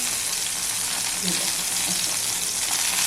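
Drumstick pods fry in a little oil in a pan, giving a steady, fairly loud hiss of sizzling with a faint voice underneath.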